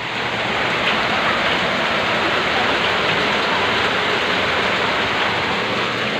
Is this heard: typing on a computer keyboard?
no